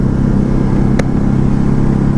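A 2019 Ducati Hypermotard 950 engine drones loud and steady at around 4,000 rpm while riding, with a brief click near the middle and no talk.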